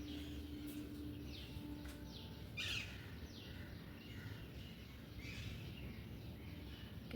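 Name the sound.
birds chirping on a rooftop in the morning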